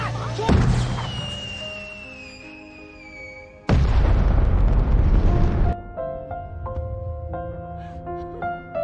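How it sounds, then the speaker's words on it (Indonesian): Two heavy booming bursts ring out like fireworks exploding at a beach, each followed by a crackling roar that fades, set against a background of music. "Setelahnya dia pun pergi ke pantai dan menyalakan kembang api di sana."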